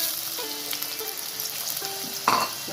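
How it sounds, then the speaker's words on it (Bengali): Potatoes fry in hot oil in a steady close sizzle, with a louder burst of spitting and crackling near the end as they are stirred. "তেলটা আমার গরম হয়ে গেছে, এবারে আমি আলুটা ভেজে নেব।"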